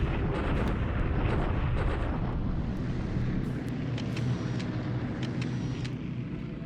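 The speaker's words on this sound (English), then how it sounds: "Doing some more bombing here." Bombing in a WWII strategy game, a dense continuous roar of explosions and rumbling engines, loud and sustained throughout with scattered sharper bursts near the end.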